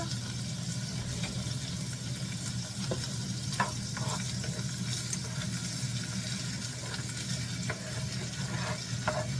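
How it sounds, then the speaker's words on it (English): Tomato sauce being stirred into a pan of homemade Sloppy Joe mixture, a steady broadband sizzle and simmer with scattered soft scraping clinks from the spoon, close and continuous, with no talking. "2 cups of tomato sauce. Give that a little stir."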